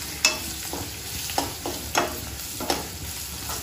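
Chilli paneer vegetables are stirred in a hot pan, a steady sizzle punctuated by four or five distinct scraping strokes of a spoon against the metal, close-up and with no voices.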